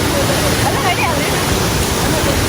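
A loud, continuous roar of rushing water from Didupe Falls, close and unbroken, with voices faintly mixed into the din.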